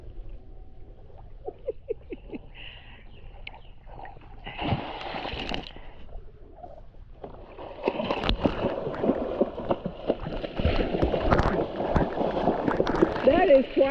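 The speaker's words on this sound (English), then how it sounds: "That is quite a splash." Muffled underwater sloshing and bubbling heard from an underwater camera, then a loud churning splash of pond water with turbulent gurgles and bursts that build and continue.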